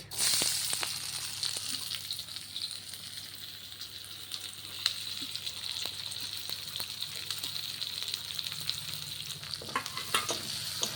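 Chopped onion frying in hot oil as a tempering for a mustard-paste bata fish paturi, a steady close sizzle with occasional pops and stirring clicks, no talking.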